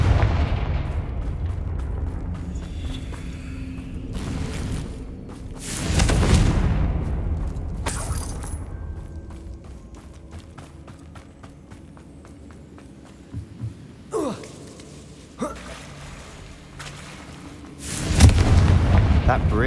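Confringo blasting curse explosions in the Hogwarts Legacy video game, several deep booms spaced through the stretch, with footsteps and game ambience between them and brief voices.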